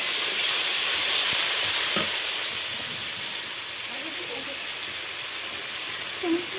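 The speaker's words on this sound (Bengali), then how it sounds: "মশলাটা কষানো হচ্ছে।" Spice paste sizzling and frying in a pan after a splash of water, a loud steady hiss that is strongest at first and settles into a softer, even sizzle with light stirring scrapes.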